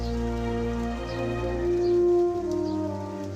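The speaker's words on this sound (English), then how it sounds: "But of course, rain is a vital part of nature." Rain falling outdoors in the Peak District in June, a steady soft patter across the whole stretch, with a sustained tonal drone running underneath.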